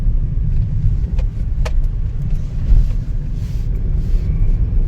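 A car drives along a rural road between Porbandar and Bapodar, with a steady close engine and tyre rumble running continuously throughout.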